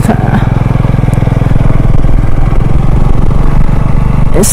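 A Keeway Superlight motorcycle engine runs steadily while being ridden slowly in first gear, a loud, close, continuous putter with a fast, even pulse and no talking over it.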